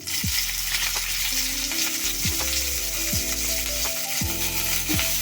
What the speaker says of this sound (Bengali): তেলটা গরম হয়ে গেছে দিয়ে দেবো পেঁয়াজ কুচি ও লঙ্কা কুচি